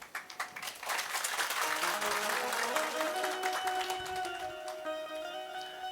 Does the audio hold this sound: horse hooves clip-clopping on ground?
no